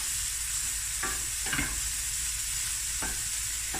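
Sriracha prawns sizzle steadily in a hot pan while a utensil stirs them, with a few sharp scraping strokes across the pan.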